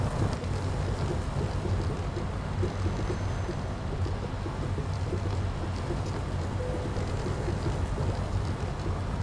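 Truck engine climbing uphill without a load, pulling only an empty trailer: a continuous, steady low drone mixed with wind rush, close and even in level, with no talking.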